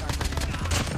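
A fast burst of automatic gunfire from the video game Call of Duty, loud and close, rattles without pause for a brief second.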